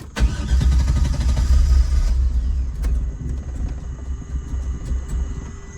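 A car engine cranks over repeatedly without catching: a loud, low, churning rumble that is heaviest for the first two seconds, then settles into a steadier mechanical drone with no voices.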